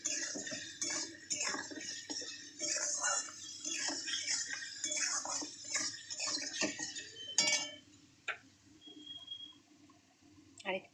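Spice masala of salt, chilli powder and turmeric is stirred in a pan, a spoon clinking and scraping against the metal in quick irregular strokes beneath a person talking, then a quieter stretch.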